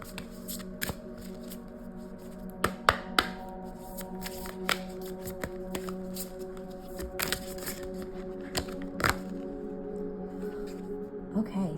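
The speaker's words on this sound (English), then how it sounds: "now I'm going to shuffle from this card here" Tarot cards are shuffled by hand, a steady papery riffle with sharp clicking snaps scattered throughout, close and clear over a faint steady hum.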